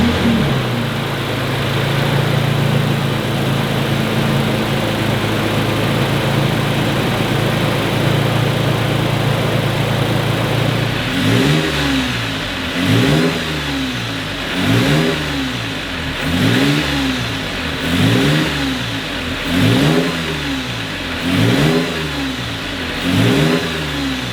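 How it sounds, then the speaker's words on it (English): A supercharged Toyota Tacoma truck runs steadily for about eleven seconds, then its engine settles into a loud, rhythmic rising-and-falling pulse, a surge roughly every second and a half, close by with no talking. "I'm gonna go ahead and start the truck, just let it idle with the heat and everything on"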